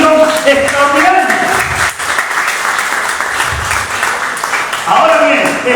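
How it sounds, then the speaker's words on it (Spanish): A church congregation gives loud, sustained applause after reciting the Lord's Prayer, many hands clapping together close by while voices call out and speak over the clapping throughout. "Un fuerte aplauso por esa oración extraordinaria."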